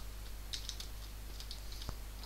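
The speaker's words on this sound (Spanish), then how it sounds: "Es que este teclado hace muchísimos ruidos." Loud computer keyboard typing during a Minecraft session: a few sharp, clicky keystrokes spaced irregularly over a steady low hum, with one heavier key thump near the end.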